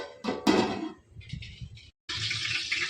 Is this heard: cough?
no